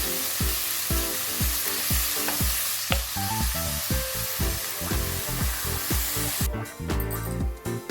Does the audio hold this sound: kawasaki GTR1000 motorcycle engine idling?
no